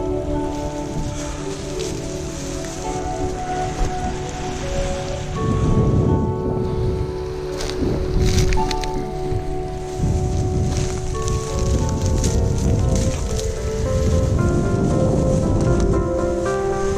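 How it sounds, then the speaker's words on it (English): Light rain spitting down on a beach, a steady soft patter and hiss that swells slightly midway, continuous and close with no talking. "it's just started spitting with a bit of rain"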